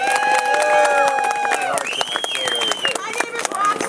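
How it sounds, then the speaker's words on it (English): A large crowd at a labor solidarity rally in Scranton claps and cheers continuously, with whoops and a sustained shout rising over the dense applause. "Give yourself a big round of applause."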